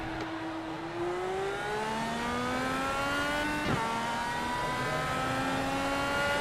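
Race cars in an Area 51 series accelerate together on a restart behind the pace car, a dense continuous engine roar with several rising pitches from different cars, heard at a distance with no talk over it.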